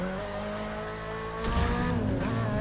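A car slides through a hairpin in The Crew 2, engine droning steadily before the tires break into a loud squeal and skid as the revs shift midway.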